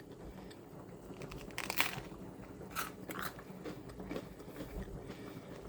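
Bites into a tuna melt, a few crunchy bites with soft, close chewing in between, quiet overall with background noise and no talking.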